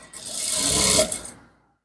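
A sewing machine runs in one quick burst of about a second while stitching a danshiki, a steady close whirring rattle that rises, holds, then stops abruptly into silence.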